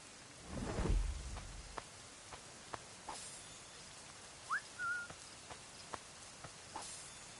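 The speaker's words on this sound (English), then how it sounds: "The storm's getting worse." A thunderstorm with rain in Assassin's Creed Rogue opens with a deep thunder rumble over a steady rain hiss, followed by scattered sharp clicks and thuds.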